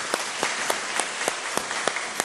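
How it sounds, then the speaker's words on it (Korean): A standing church congregation gives farewell applause, a soft, continuous patter of many hands with a few sharper individual claps cutting through at fairly regular intervals, moderately distant and without talk. "우리 잠깐 일어나시고 우리 환송의 박수 하겠습니다"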